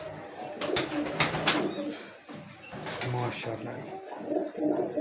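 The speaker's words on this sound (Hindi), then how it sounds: "माशाल्लाह, बड़ी तगड़ी कबूतरी है।" A sturdy female pigeon in a Gujranwala breeding setup coos in soft repeated phrases, close and moderately loud, with a few sharp clatters and brief voices in the background.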